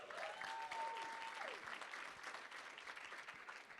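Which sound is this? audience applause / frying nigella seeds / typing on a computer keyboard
audience applause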